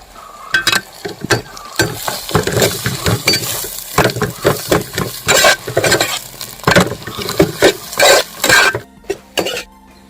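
Onions, tomatoes and green chillies stirred in a pan, rapid repeated spoon scrapes and clatters against the metal over sizzling, close and fairly loud, no speech.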